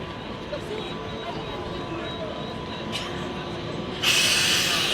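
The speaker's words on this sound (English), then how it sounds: "These are the old trams." Old trams run along a Lisbon street, a steady rumble with faint metallic squeal under busy street noise and distant voices, with a louder hissing swell near the end.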